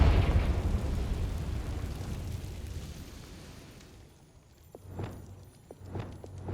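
Confringo spell explosion in the Hogwarts Legacy video game, a loud rumbling blast that slowly decays over several seconds, followed by a few faint footsteps-like knocks.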